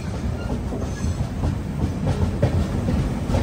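Bangalore to Chennai double decker express train running after Kuppam, heard from inside as a steady rumbling roar with rhythmic clickety-clack of wheels over rail joints, close and continuous without talking.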